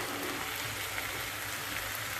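Mushrooms and peas tipped into a hot frying pan for a Bengali matar mushroom curry, giving a steady, close hiss of frying that holds evenly throughout with no talk.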